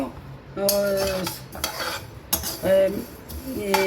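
Fennel seeds being roasted in a pan, with a close sizzle and crackle broken by repeated metallic scrapes of a spoon stirring against the pan, no voices.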